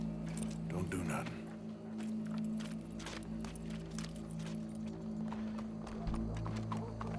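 Horse hooves clop in a quick, irregular rhythm over a steady low hum in the video game Red Dead Redemption 2, faint, with voices talking over them.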